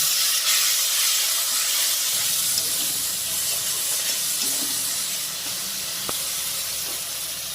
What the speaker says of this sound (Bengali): এবার অল্প একটু জল দিয়ে ভালো করে মশলা কষিয়ে নেব